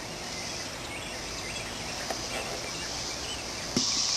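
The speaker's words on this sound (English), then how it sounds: "Cicadas are out." Cicadas drone in a continuous high, dense buzz that fills the air, steady and fairly loud, with a few faint chirps layered in from insects near and far.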